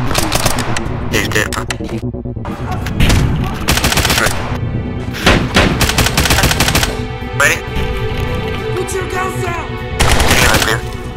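Loud, rapid bursts of automatic gunfire crackle in the shooter video game Zero Hour, with repeated volleys separated by short pauses while players talk over the shooting.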